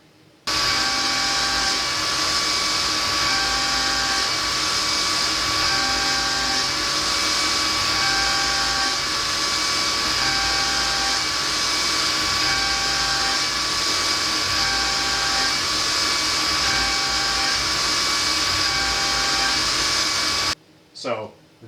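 A PM30 milling machine makes a heavy cut at high spindle speed, giving a steady, loud motor whine with a tonal hum and faint cutting chatter. It runs continuously for about twenty seconds, then stops abruptly.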